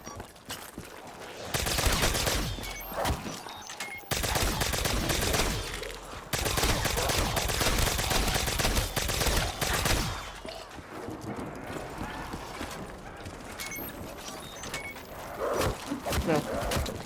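Rapid gunfire fills a zombie video game round as a horde is shot down, dense and loud bursts of shots with brief breaks, mixed with game sounds and someone talking over it.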